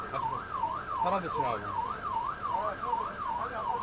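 Fire engine siren wailing in a busy market street, a loud continuous rising and falling tone repeating about every half second, with brief voices in the background.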